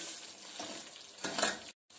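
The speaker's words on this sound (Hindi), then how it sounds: "अब इसको ज़्यादा नहीं पकाना, बस थोड़ा सा मेल्ट कर लेना है" Sugar with a little water melting and cooking in a pot for zarda, a close, continuous soft bubbling and sizzling that swells briefly and then cuts out.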